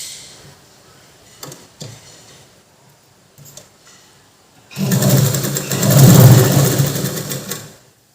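An electric sewing machine stitches churidar fabric, starting after a few quiet handling taps and running at a fast, steady whir for about three seconds close by before stopping.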